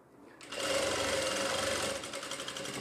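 Sewing machine stitching a seam on a kurti, a steady fast whirring run that starts after a short quiet moment, holds loud and even for about two seconds, then eases slightly.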